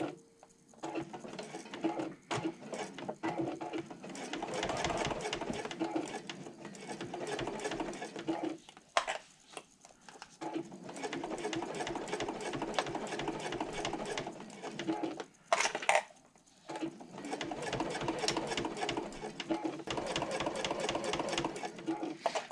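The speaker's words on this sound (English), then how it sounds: "I'm actually going to start right where the contrast strip ends and don't go past it, but make sure that you're back stitching" A sewing machine stitches and back-stitches a strap in rapid bursts of mechanical chatter, stopping and restarting several times with brief pauses, close and clear.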